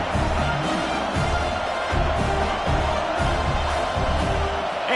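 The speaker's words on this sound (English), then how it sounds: "This crowd trying to do its part to get inside the kicker's head." Stadium crowd at a Texas vs Texas A&M college football game roars steadily before a field goal, with rhythmic pulses of chanting and shouting swelling and falling in waves.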